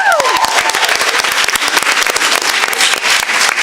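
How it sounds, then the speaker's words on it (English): Loud, dense audience applause at a college celebration event, with sharp individual claps standing out close by over a continuous crowd wash and a few brief whoops at the start. "So clap it up."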